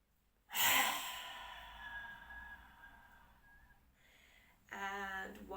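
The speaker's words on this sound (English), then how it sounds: "Inhale to belly. Exhale, release." A forceful lion's breath exhale during a yoga breathing exercise, one loud breathy rush that fades over several seconds, followed by a fresh strong breath near the end.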